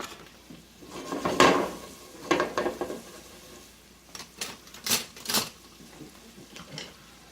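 Vegetables sweat in a Teflon pan for chicken tortilla soup, giving a faint, soft sizzle broken by intermittent stirring scrapes and clatters.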